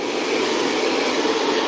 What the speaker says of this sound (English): I'm actually going to use a little bit of a hairdryer on cool,